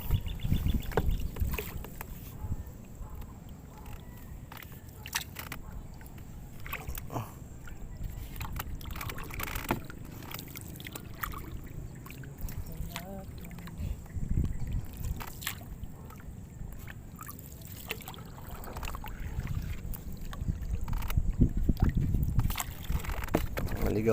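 A small boat out on the water near a paragliding site, carrying a fishing trip, gives a steady low rumble with water sloshing and wind buffeting the microphone throughout, and people talk faintly now and then.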